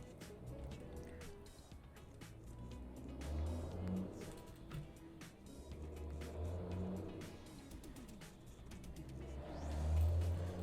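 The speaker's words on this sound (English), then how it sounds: "we are on a busy thoroughfare. So lots of traffic and noise." Steady road traffic on a busy thoroughfare, cars rumbling and swelling past in low waves with a louder pass near the end, continuous and fairly close with no talk.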